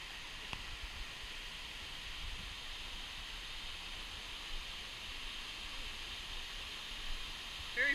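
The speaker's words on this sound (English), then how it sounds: "Multnomah Creek." Steady broadband rush of Multnomah Creek's flowing water, a constant wash spread evenly from start to end with no talk over it.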